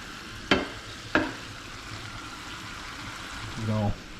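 Noodles cooking in a pan, a steady low sizzle and bubbling, with a few sharp clinks and scrapes as a utensil stirs them close by and a short louder burst of frying near the end.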